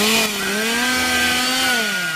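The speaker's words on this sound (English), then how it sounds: "Ended up using a real chainsaw that I found at a yard sale." A gas chainsaw bought at a yard sale runs steadily near and loud, its engine drone holding an even pitch that wavers slightly for about two seconds, with no talk over it.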